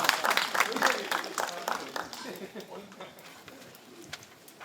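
Applause breaks out in the room at a press briefing for a regulation-free special zone for cell-cultured food. The clapping is brisk and moderately loud, then thins out and fades over several seconds.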